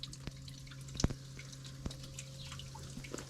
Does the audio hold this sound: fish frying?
no